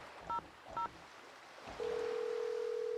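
Two short touch-tone beeps from a phone keypad in a Nancy Drew video game, followed by a steady ringback tone, quiet over faint ambient wind and surf.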